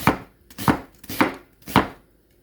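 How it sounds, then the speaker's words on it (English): A knife chops through a red onion on a board in four distinct, evenly spaced strokes, each a crisp close thud with a short crunch, separated by near silence. "We take the red onion, and we choose red onion because we want it to give it some color, and we just basically cut it."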